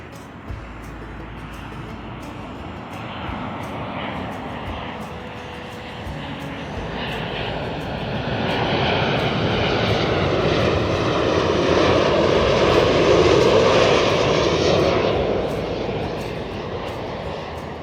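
An airplane takes off in the distance, its engine roar building to a loud peak before slowly fading.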